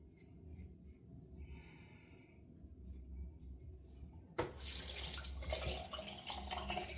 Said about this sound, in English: I will turn my sink off in a minute. Sink, I'll turn my tap off.